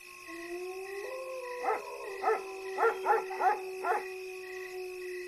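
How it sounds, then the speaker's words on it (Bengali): Cartoon dogs and jackals calling across a night-time pond setting, a string of distant howls and yips in short overlapping bursts over a steady sustained tonal backdrop, moderately quiet with no voices. "দূর দূরান্ত থেকে কুকুর শিয়ালের ডাক ভেসে আসছে।"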